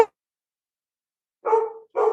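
A dog gives two short, close barks in quick succession after a brief silence, loud and sharp, with no talk around them.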